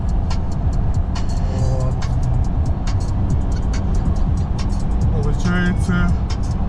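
A Toyota Hilux cruises along a road, its steady engine and tire rumble filling the cabin continuously while someone talks over it.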